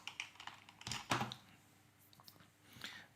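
A command is typed on a computer keyboard, a quiet, close cluster of soft key clicks with a few louder taps, then near silence before a final faint keystroke.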